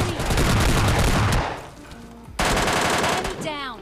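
Video game machine-gun fire rattles in loud rapid bursts, close and dense for about a second and a half, then a pause, then another burst that fades as a voice comes in.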